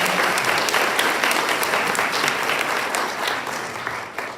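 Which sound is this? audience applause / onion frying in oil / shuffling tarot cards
audience applause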